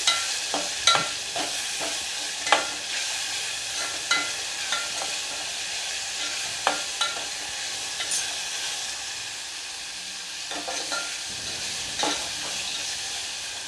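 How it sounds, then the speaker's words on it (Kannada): Onions fry in a pan for sambar, a continuous hiss of sizzling broken by scattered sharp clacks of a spoon stirring, fairly close and unaccompanied by voices. "ಈಗ ನೋಡ್ರಿ ನಮ್ಮದು ಈರುಳ್ಳಿ ಫ್ರೈ ಆಗೈತಿ"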